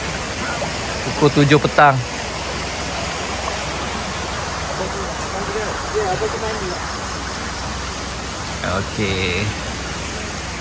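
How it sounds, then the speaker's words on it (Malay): A river rushes steadily past a campsite at Janda Baik at seven in the evening, a constant broad wash of water with brief speech on top. "inilah keadaan sungai dia pada jam 7 petang"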